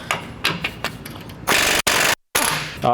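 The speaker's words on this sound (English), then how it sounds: "This is a 27mm socket. Now you can remove your U-bolts." A ratchet wrench fitted with a 27mm socket works loose the U-bolts on a 2020+ GM 2500 truck axle, giving a few sharp clicks followed by bursts of rapid, loud ratcheting clatter with brief pauses between them.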